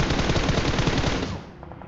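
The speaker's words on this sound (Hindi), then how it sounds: "तुम अभी यहाँ पे मैप में सुनना एक फायरिंग साउंड, ये आया पीछे की तरफ से।" Rapid automatic gunfire from a mobile shooter video game rattles out in a loud, close burst of quick shots, then fades off into a softer tail.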